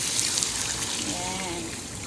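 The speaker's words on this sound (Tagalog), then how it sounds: "Lagyan na natin ng mainit na tubig." Hot water being poured during dinner preparation, a steady trickling splash under a faint background, no one speaking over it.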